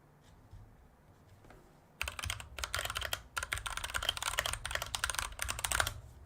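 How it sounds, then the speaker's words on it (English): Rapid typing on a mechanical computer keyboard starts abruptly after a quiet pause, a dense clatter of crisp, close key clicks running for several seconds without speech. "You can see I've got the mechanical keyboard out today."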